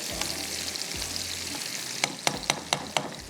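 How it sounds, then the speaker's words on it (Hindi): Garlic, cumin and onion fry in a pan with a steady sizzle, then a run of sharp spoon-against-pan knocks as the mix is stirred, near and without speech. "मैंने इसके अंदर डाला है लहसुन, ज़ीरा, और इसके साथ मैंने इसमें प्याज डाल दिया, ठीक है। अब इसको करते हैं फ्राई।"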